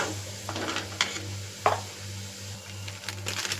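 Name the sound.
sautéing mushroom gravy masala in pan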